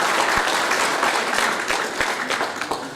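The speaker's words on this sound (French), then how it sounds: "Veuillez applaudir s'il vous plaît les organisatrices" Audience applause for the organisers at the SITTEM 2016 professional event, a dense, steady wash of many hands clapping throughout, fading slightly at the end.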